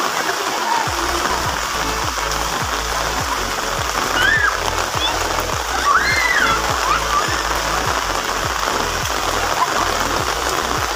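Water splashes and gushes continuously in a rhythmic pumping pattern from an improvised water pump at a natural spring, close and steady, with faint bird chirps and occasional voices in the background.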